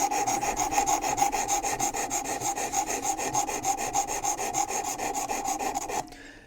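A knife blade is drawn over a WorkSharp Precision Adjust sharpening stone in rapid, even rasping strokes, a steady close rhythmic scrape lasting several seconds before stopping abruptly, with no talking.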